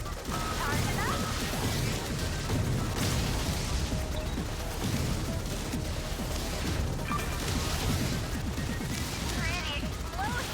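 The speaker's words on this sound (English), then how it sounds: "Pretty explosion." Explosions and crashing blasts in the Subverse space game, dense and loud throughout with whooshes and impacts layered together.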